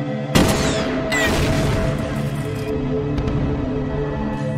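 Artillery fire in a World War II film battle scene: a sharp, loud boom strikes early, followed by another blast and a dense rumbling barrage of distant explosions and gunfire that carries on under the score.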